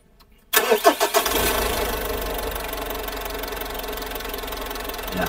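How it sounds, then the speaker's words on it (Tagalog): A Mitsubishi Montero engine cranks and catches after an oil additive test, then settles into a steady, close, loud idle with a faint knocking texture running throughout. "pakikinggan po natin kung malaki po ang naging pagbabago sa tunog po ng makina nito"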